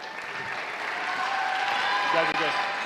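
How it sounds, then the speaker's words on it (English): Audience applause at a youth tournament awards ceremony fills the room steadily, with loud broadband clapping and crowd noise throughout and a brief voice heard faintly near the end. "Let's give them a round of applause."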